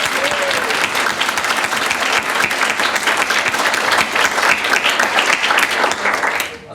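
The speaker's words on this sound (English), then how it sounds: "I think the chairman gets a round of applause too." An audience applauds at a panel debate with sustained, dense clapping at fairly close range that continues evenly before fading out at the end.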